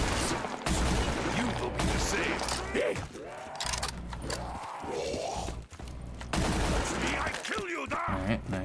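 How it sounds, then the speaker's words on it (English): Shotguns fired during Black Ops III custom zombies gameplay, dense bursts of loud blasts running through most of the stretch over game noise, with a voice talking intermittently. "I'm running double shotguns."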